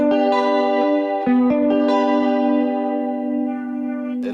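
A bright electric guitar picks a lilting, repeating sungura melody over a sustained low note, drenched in echo and chorus, close and continuous.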